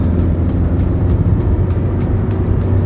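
Suzuki Swift diesel car accelerating at speed, heard from inside as a steady, loud low engine drone with road rumble and no talking.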